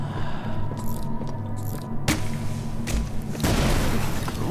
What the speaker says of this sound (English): We got an explosion.